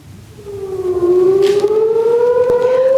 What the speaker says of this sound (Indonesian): warga Israel ketakutan saat sirine beraung di udara